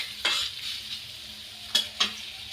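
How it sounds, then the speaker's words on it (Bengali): Chopped onion and chili sizzle gently in a little oil as a spatula stirs them. Three sharp scraping strokes stand out against a low, steady fry, close and quiet, with no voices. "হালকা করে নেড়ে চেড়ে একটু লাল লাল করে ভেজে নেব"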